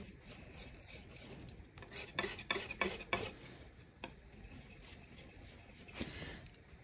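Oil paint is mixed on a palette with a knife or brush, producing soft, close rasping and rubbing strokes. A brief burst of quicker scraping sits in the middle of otherwise quiet, faint working sounds.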